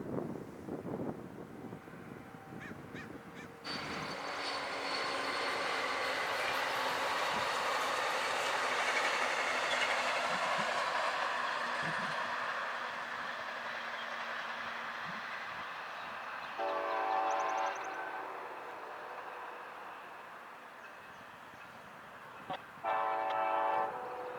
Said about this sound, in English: And up next is Amtrak 504 going in the opposite direction.